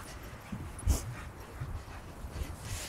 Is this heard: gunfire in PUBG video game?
no